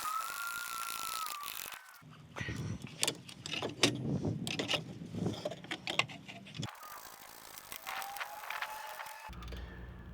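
14 mm socket wrench ratcheting bolts back onto a car, heard up close as quick clicking pawl bursts and metallic handling noises, fairly quiet with brief gaps.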